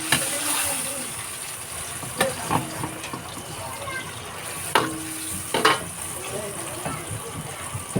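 Cauliflower, snow peas and pechay with sardines are stirred in a hot pan, giving a soft background sizzle punctuated by sharp utensil scrapes and clinks.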